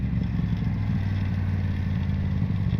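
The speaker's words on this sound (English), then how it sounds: "you can drop gears real quick. See? 3 gears." A motorcycle engine blips quickly while dropping three gears, giving a close, steady, throbbing mid-pitched drone with a rapid pulsing rhythm throughout.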